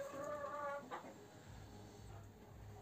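Hens in a chicken coop clucking softly, with a short run of tonal clucks at the start followed by fainter murmuring among low background rumble; quiet and close, no talk.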